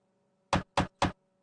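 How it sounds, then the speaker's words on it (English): Three crisp knocks on a door from Final Fantasy VII, evenly spaced and loud, with nothing else sounding around them. "Gosh, that knock."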